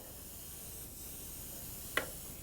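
An airbrush lays down a wide background spray on cake decoration, a faint, steady airy hiss with a brief sharper tick near the end.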